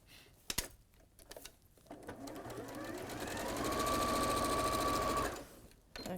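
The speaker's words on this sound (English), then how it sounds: "I'm just going to sew on that corner now." A sewing machine stitches across the corner of a dragonfly-embroidered cushion, its rapid needle chatter running steady and close for about three seconds after a few soft handling knocks, then stopping abruptly.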